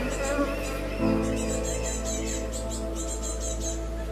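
Bees buzz steadily in a low, droning hum with a faint higher whine above it, continuous and close throughout.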